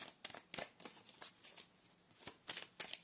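Tarot cards being shuffled, heard as a run of close, crisp riffling swishes and light slaps in quick irregular bursts, with no talking over them.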